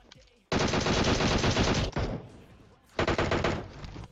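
Loud sustained automatic gunfire in PUBG Mobile, two long bursts of rapid rattling shots close by with a short pause between them.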